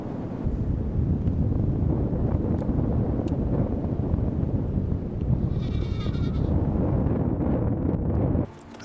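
Strong alpine wind roars steadily across a cold mountain cliff where mountain goats rest, with a faint, brief goat bleat rising through the gusts before the wind cuts off near the end.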